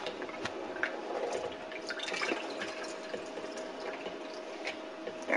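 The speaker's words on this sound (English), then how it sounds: "I like to drain the corn." Liquid drains from a can of corn, a steady close trickle broken by scattered drips and splashes that run on their own for several seconds.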